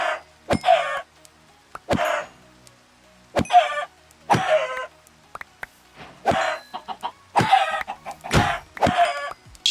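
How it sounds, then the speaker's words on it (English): Minecraft chickens cluck in the All The Mods 10 game, with short, close, repeated bursts of clucking and squawks at irregular intervals, each preceded by a sharp hit sound, and no talk. "And then we're just gonna kill chickens for fun."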